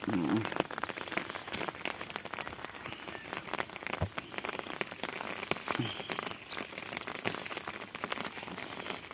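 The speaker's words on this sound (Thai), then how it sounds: "ฝนก็ตกนะครับ" Steady rain patters on a surface at a flooded rice paddy throughout, with dense scattered drops and occasional faint voices beneath it.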